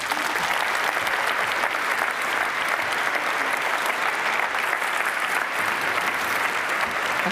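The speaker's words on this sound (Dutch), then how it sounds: "Nog 1 keer een applaus graag." Loud, sustained applause fills a hall at the Universiteit Utrecht Dies Natalis ceremony, many hands clapping in a dense, even roar without pause.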